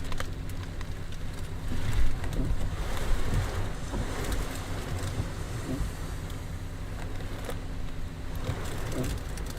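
Steady roar of wind from Tropical Storm Debby, a continuous broadband rush with gusty swells and buffeting against the microphone, no voices, constant and fairly loud throughout.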